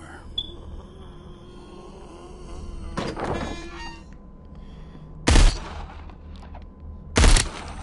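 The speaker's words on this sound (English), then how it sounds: "Did you hear gunfire?" Gunfire in the VR zombie game Arizona Sunshine 2: three separate sharp shots ring out a couple of seconds apart over a quiet ambient background.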